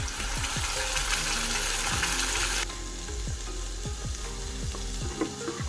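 Satni frying in a hot, lightly oiled pan gives off a loud, steady sizzle, broken by repeated scraping and stirring strokes against the pan, with a noticeable drop in hiss about halfway through.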